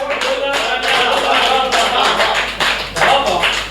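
Dense applause from an audience at a Hindi poetry recital, steady and loud for several seconds, with a few brief dips before it swells again.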